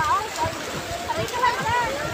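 A strong water current surges and splashes in a fishpond, a close, churning gurgle heard under excited talking and shouting.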